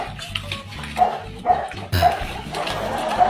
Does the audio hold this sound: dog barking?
yes